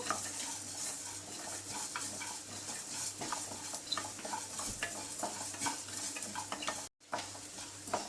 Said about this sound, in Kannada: ಅದಕ್ಕೆ 3 ಟೇಬಲ್ ಸ್ಪೂನಷ್ಟು ಕೊತ್ತಂಬರಿ ಬೀಜ ಚೆನ್ನಾಗಿ ಘಮ ಅನ್ಬೇಕು, ಅಷ್ಟವರೆಗೂ ಹುರಿಬೇಕು